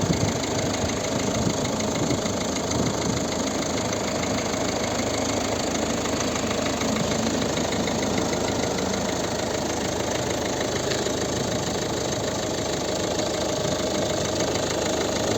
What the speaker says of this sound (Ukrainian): Ну і ось робота двигуна.